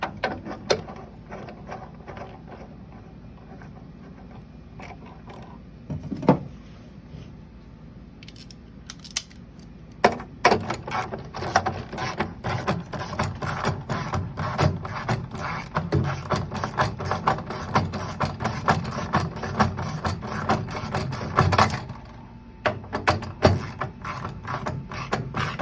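A ratchet tightens bolts on a PRP steering kit for a Ski-Doo Mach Z snowmobile, rapid close clicking in long bursts with brief pauses, loud and steady through most of the stretch.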